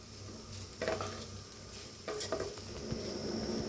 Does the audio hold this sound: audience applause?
no